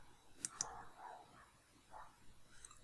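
Two quick, faint mouse clicks close together on a computer, followed by quiet room tone with a few soft rustles.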